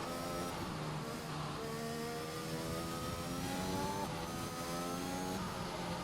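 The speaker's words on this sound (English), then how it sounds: "I use this lap just to floor it to warm my tyres up properly" Simulated F1 car engine in the F1 2021 racing game screams at full throttle on a formation lap at Italy, rising through gears with repeated upward pitch sweeps and shifts, steady and fairly faint.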